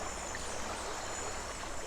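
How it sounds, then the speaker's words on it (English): A rushing stream in a video game pours steadily, a dense even hiss of flowing water with no pauses or voices. "And there's a little rushing water here."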